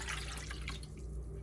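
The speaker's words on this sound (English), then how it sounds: "I'm going to add 4 cups of water." Water splashes and trickles faintly as four cups are poured into a cooking pot of chopped ingredients for a home remedy drink, a soft, brief liquid patter under a low background hum.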